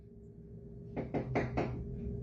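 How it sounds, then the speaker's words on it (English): Four quick, fairly loud knocks bang on a door in a short burst, sounding close and isolated against a quiet room hum. "Banging on my door here."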